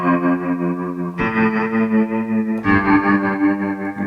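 A spring reverb plugin from Eventide with tremolo modulation colors sustained guitar chords, giving a rich, wobbling, shimmering wash as each new chord rings in, three changes in all.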